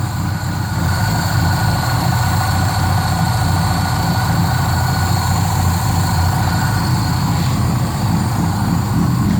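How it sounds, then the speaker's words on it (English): Fuel-injected big block V8 in a squarebody 4x4 truck idles steadily, running on poor fuel with an idle air control valve hunting; a continuous low rumble with a broadband hiss over it, close and constant throughout. "Sounds like a vacuum leak, but it's idle air control cranking."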